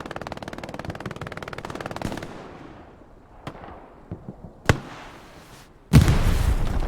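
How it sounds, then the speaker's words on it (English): A rocket is fired in an 18v18 competitive video game match: a rapid stream of gunfire gives way to scattered sharp bangs, then a loud, abrupt blast that rumbles on to the end. "One guy shoots a rocket"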